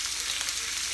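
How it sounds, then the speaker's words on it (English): Sirloin steak sizzling in a hot pan, a loud, continuous hissing crackle close by, with no talking over it. "I am cooking a sirloin steak."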